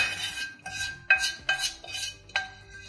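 Olive oil, garlic and onion mix poured and scraped into a bowl in a kitchen, with several clinking dish and utensil knocks spaced over a few seconds, close and fairly quiet.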